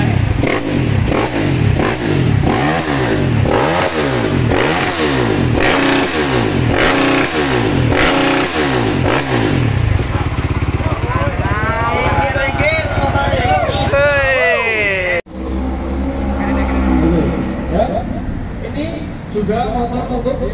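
A racing-school training motorcycle engine revs hard in rhythmic surges, loud and close, then climbs in pitch as it accelerates away, with a sudden cut and restart near the end.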